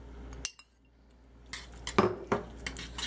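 A whisk clinks against a pan as tomatoes and scallions are worked into a reduced cream sauce, with a few sharp metallic taps and scrapes, close and fairly quiet, following a brief silent stretch.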